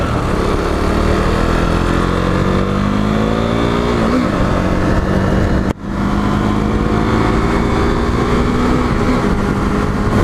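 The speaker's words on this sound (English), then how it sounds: "Clutch out slowly while turning the gas on." A motorcycle pulls away as the clutch is let out and the throttle opened, engine tone climbing through rising revs, a brief drop as a gear is shifted, then climbing again under heavy wind buffeting.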